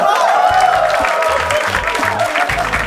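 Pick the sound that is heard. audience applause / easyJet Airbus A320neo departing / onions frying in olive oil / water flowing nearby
audience applause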